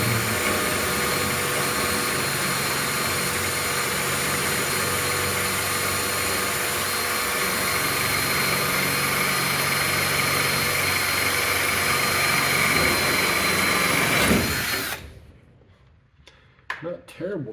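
A power drill fitted with a 1/8 drill bit drives screws through J channel during a storage building repair, whining steadily and close for about fourteen seconds before cutting off, followed by a few light knocks.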